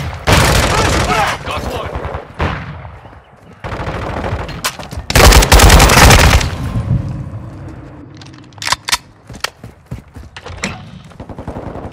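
Loud Call of Duty combat at a hardpoint, with dense machine-gun bursts, single cracking shots and heavy booming impacts. Shouted voices come and go under the firing, and the fire thins into scattered shots toward the end.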